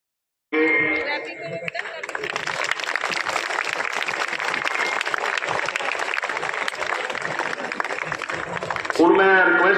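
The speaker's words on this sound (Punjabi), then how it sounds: "ਤਾੜੀਆਂ ਲਗਾਤਾਰ ਰੱਖੀਆਂ" Sustained applause from an audience at a school felicitation for a merit-list student at a government senior secondary school in Bhangala, starting abruptly and holding a dense, steady clatter of many hands for several seconds, with voices mixed in.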